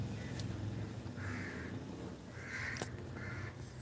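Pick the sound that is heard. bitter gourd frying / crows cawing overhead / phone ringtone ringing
crows cawing overhead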